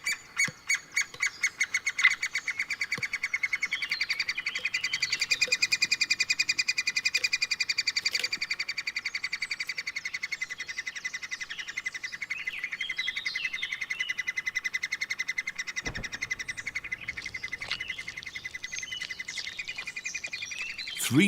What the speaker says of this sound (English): Just before the little woodpeckers get ready to fly, they need huge amounts of food and keep their parents busy with their constant begging.